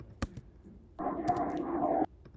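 A riser sound effect in a BandLab electronic track swells as a brief, bright, sustained noisy tone lasting about a second, following a faint click, at low volume.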